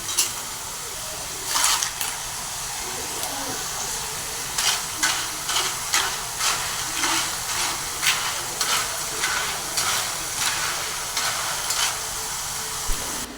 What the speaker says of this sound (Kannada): ನೋಡಿ, ಈಗ ಫ್ರೈ ಆಗ್ತಾ ಇದೆ, ಕಲರ್ ಚೇಂಜ್ ಆಗ್ತಾ ಬಂತು